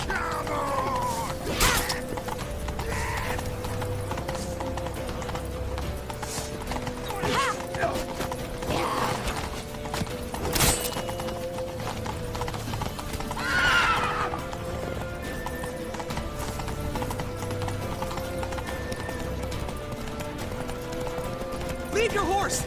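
Horses gallop in The Witcher 3 Wild Hunt with a steady clip-clop of hooves and repeated whinnies and neighs over a dense game soundscape of creaks and mechanisms, while voices shout throughout.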